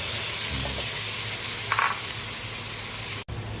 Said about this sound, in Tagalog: Nagisa na yung ating beef at pork.